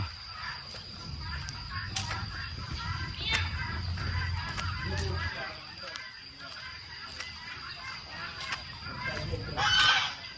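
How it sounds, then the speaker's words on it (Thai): Guinea fowl and geese on a rural farmstead in Laos call out in scattered honks and squawks at middle distance, with voices and general yard noise in the background. "พาไปเบิ่งไก่ตอก"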